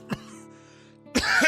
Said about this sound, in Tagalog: Kuya, nag-aalala talaga ako dyan sa ubo mo